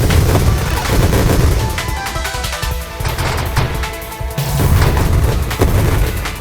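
Loud, dense bursts of projectile explosions and rapid weapon fire from the space shooter game Nova Drift, booming continuously with a brief lull midway before swelling again.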